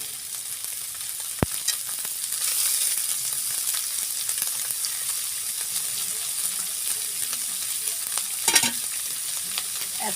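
Minced chicken fries in a pan with onions, garlic and green chilli, giving a constant close sizzle. Occasional spatula scrapes and clinks cut through, and no one speaks.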